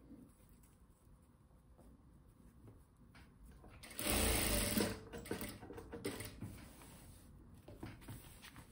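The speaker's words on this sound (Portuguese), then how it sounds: "Aqui no final eu gosto de passar uma costura, tá? Pra firmar aqui a parte de baixo do pano." An electric sewing machine stitches along the bottom edge of a cotton dish towel, a steady close whir that surges loudly for about a second midway, then continues in quieter bursts.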